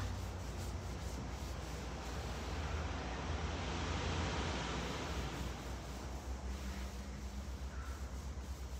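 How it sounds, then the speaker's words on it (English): Paint wash being wiped onto a wooden furniture piece, a continuous soft rubbing swish of cloth over wood, quiet and steady without voices. "we're just going to keep wiping it on, moving it around, getting it all over"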